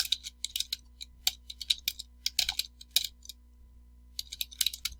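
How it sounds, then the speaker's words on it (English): Rapid, irregular tapping of keys on a computer keyboard, close and clear, in short bursts with brief pauses over a low steady hum. "I just type it in here. I'm also going to add my keywords."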